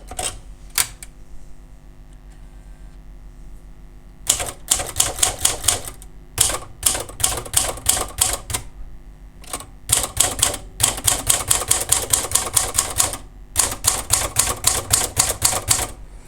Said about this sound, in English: So I'm going to do a little bit more typing.